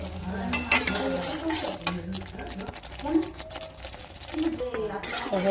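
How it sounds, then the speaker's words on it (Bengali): Spice paste for a Bengali egg curry sautés in oil, sizzling steadily while a spoon scrapes and clatters against the pan in repeated strokes, with a voice talking in the background. "ভালো করে কষাতে হবে দেখতে থাকুন দেখতে পাচ্ছ বন্ধুরা মশলাটা কষানো হয়ে গেছে তেল ছেড়ে দিয়েছে"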